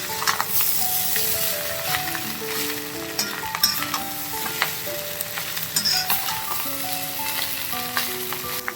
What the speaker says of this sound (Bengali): এবার আমি এটা খুব ভালো করে মিশিয়ে নেব।